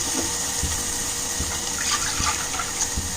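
Tamarind water pours steadily into a pot for rasam with a continuous rushing, splashing wash and a few soft knocks, close and fairly loud, with no voices.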